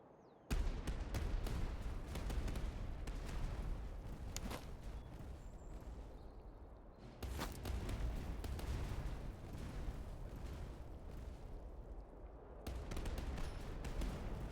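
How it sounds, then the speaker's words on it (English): Cannon firing grape shot in the Master of Command strategy game, heard as a dense, continuous rumble of volleys with crackling bursts, loud and sustained, swelling again at intervals. "Yeah, that was a nice grape shot."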